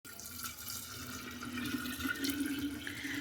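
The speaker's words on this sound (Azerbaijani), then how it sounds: "Balonun üzərinə bu suyu əlavə edirəm." Water pours steadily into a glass jar holding wheat and other ingredients for homemade cheese rennet, a continuous close splashing stream that thickens and rises slightly toward the end, with no talking.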